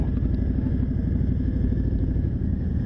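A 420 kg Harley-Davidson Road Glide rides slowly through the Kazimierz streets of Kraków, giving off a steady, close, low rumbling engine throb at low speed, with no talking.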